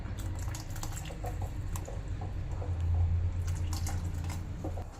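Water is poured steadily into a pot of chicken biryani, making a continuous gushing, bubbling pour with a low rumble that swells slightly midway.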